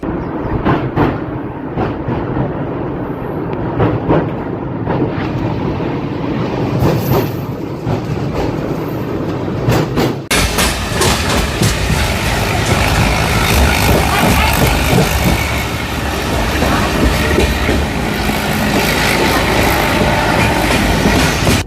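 Humsafar Express running from Srikakulam toward Tirupati past Ponduru station, a steady loud rumble of wheels on rails with rhythmic clatter that swells to a fuller, harsher roar about halfway through, with no voices.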